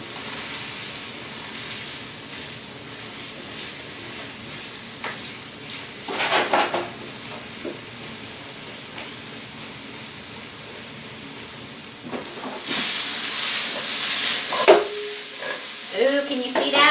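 Salisbury steak patties sizzle and hiss in a hot pan, a steady fry that swells into a loud, bright burst of spitting as they are flipped, followed by a few utensil scrapes.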